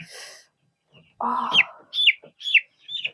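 Young chicks in a brooder cluck and chirp in short separate calls, several bursts in a row, close and clear against a quiet background.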